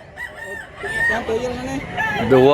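A one-year-old rooster at a market in Mantalungon, Cebu, crows loudly and close by in a rising, wavering call, with a voice speaking beneath it.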